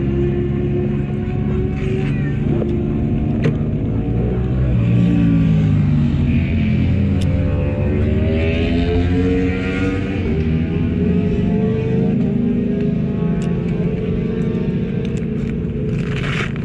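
A KTM RC 8C race motorcycle laps a track, its engine a constant loud roar with rising and falling pitch as it accelerates and shifts through gears, heard from on board throughout.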